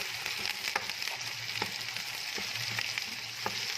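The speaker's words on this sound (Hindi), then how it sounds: "लहसुन और अदरक का पेस्ट ऐड करने के बाद तकरीबन 3 से 4 मिनट के लिए हम इसको भूनेंगे" Garlic and ginger paste fries in a pan with a constant soft sizzle, while a spoon stirs through it, tapping and scraping the pan in a loose rhythm.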